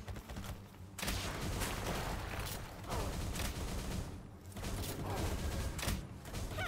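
Rapid bursts of gunfire from a gun in the Palworld video game, dense and continuous across the whole stretch with brief gaps, loud and close.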